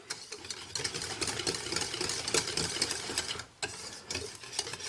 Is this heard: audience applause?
no